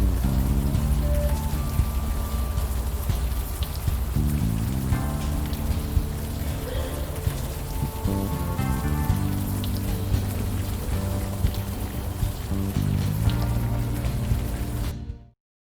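Steady rain falls in the video game Unavowed, a continuous hiss under a layer of game music that ends abruptly.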